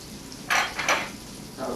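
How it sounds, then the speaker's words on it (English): Salt pork rendering in a pot for minestra, giving short bursts of crackling sizzle and utensil clatter, three brief pops close by with quiet pauses between. "we're going to proceed to render the salt pork"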